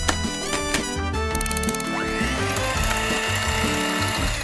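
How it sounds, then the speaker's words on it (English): Cookies ground in a blender give a loud, steady mechanical grinding with a rapid ratcheting clatter and whirring tones that run unbroken for several seconds. "Start by grinding up some cookies in a blender."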